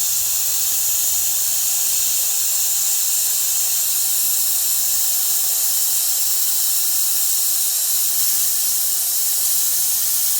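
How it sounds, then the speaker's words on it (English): Air rushing out of a three-quarter-ton truck's airbags through a dump valve, a loud, steady hiss that holds unbroken throughout with no voices. "Let's dump the air out of the airbags."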